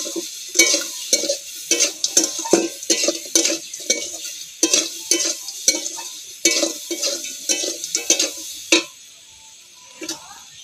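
Chopped sour okra being stirred into a crab curry, a run of sharp spoon scrapes and clinks against the pot in uneven bursts, close, with faint sizzling between strokes before a pause near the end.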